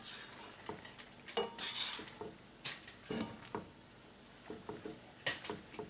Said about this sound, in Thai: เอาเส้นที่ต้มอะค่ะลงมาเคี่ยวในซอสด้วย